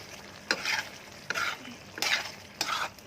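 Large onions being stirred in a frying pan for homemade chicken wings, four distinct scraping strokes over a quiet background sizzle, close and fairly soft, with no one talking.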